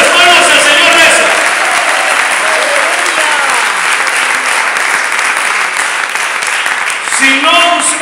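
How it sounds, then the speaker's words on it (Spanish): A church congregation claps loudly and steadily at a Spanish-language sermon, the dense applause filling the space from start to finish, with voices calling out and speaking over it throughout. "¿Y qué dan esas palmas al Señor"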